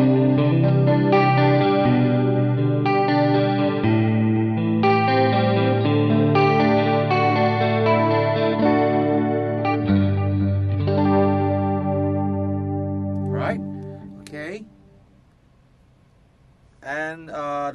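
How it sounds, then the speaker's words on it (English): An electric guitar through a Benson Chimera amp preset with spring reverb rings out in clean, chorused sustained chords that overlap and trail into reverb tails, loud and close, ending with a brief pause and a couple of muted string noises. "So this is the toned down version of the reverb on this patch."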